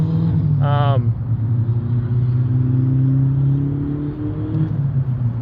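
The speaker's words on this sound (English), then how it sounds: "That Honda is turboed. I can hear it on the bloody highway." A turbocharged Honda car engine drones steadily on the highway with a low rumble, a brief rising whine near the start, then a constant hum.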